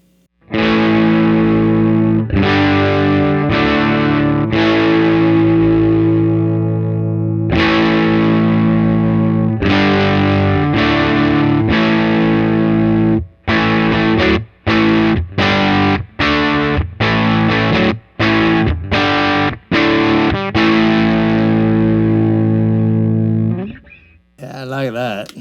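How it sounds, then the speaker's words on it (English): Electric guitar played through an overdriven 1969 Fender Pro Reverb tube amp turned up to 6, loud distorted rock chords and riffs, sustained strums giving way to choppy staccato stabs with short gaps, close and alone. "we've turned up the amp to 6, so you're going to get, you know, an overdriven sound"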